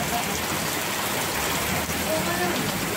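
Heavy rain pours down at a high-speed railway construction site, a dense, unbroken hiss of water close by for the whole stretch.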